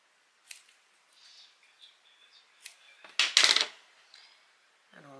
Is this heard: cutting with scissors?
yes